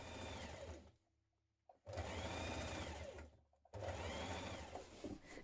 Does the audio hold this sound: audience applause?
no